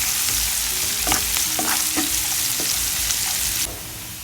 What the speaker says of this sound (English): Stir until garlic turn to be